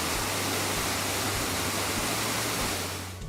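Eternal Flame Falls, a waterfall with a natural gas seep burning beneath it, roars in a constant broadband rush with a low steady hum, loud and unbroken until it eases slightly at the end.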